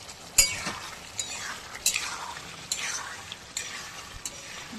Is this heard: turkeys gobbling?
no